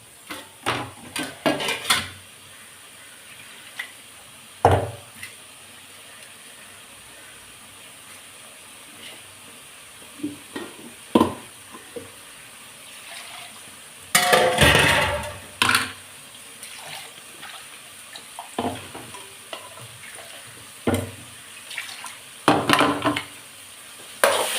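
Green chillies sauté in a pan for a Tamil-style fish curry, with a faint sizzle underneath and intermittent sharp clatters and scrapes from stirring.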